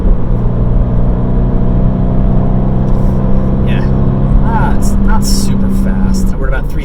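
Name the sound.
2020 Toyota 86 engine during downshift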